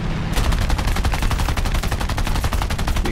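Rapid bursts from a Ro.44 floatplane's machine guns in War Thunder as it attacks an SB2 bomber, a dense, loud, unbroken rattle of gunfire at a fast, even rhythm, close and alone for about three seconds.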